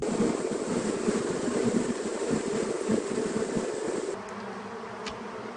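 Honey bees buzzing around hives at a high-altitude mountain apiary, a dense, continuous drone of many insects close by with steady intensity, easing slightly near the end.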